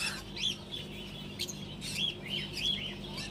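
Pet birds at the Garia exotic bird market in Kolkata, where conures are sold, chirp and tweet in quick bright bursts over a low murmur of crowd noise, several calls overlapping at a moderate distance.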